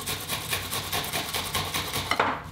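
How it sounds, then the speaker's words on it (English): A peeled onion is rubbed against a grater in a home kitchen, making a rhythmic rasping scrape in quick, even strokes, close and fairly loud, with a clatter at the end and no talking. "Now we grate the onion."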